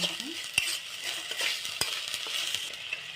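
Masala paneer with garlic and ginger paste stirred and frying in a pan, a steady bright sizzle with sharp spoon-on-pan scrapes and knocks recurring every second or so, close and alone.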